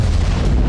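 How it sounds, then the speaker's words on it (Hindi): A heavy wartime artillery detonation from a Russian strike on a Ukrainian city, a deep, loud, continuous booming roar lasting under a second, close and saturated throughout. "दूसरा विस्फोट"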